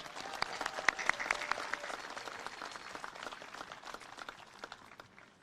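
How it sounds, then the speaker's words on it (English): A commencement audience at a university graduation applauds to welcome a graduate speaker to the stage, dense clapping with sharp individual claps standing out, strong at first and gradually tapering off. "Let's give a warm round of applause and welcome her to the stage."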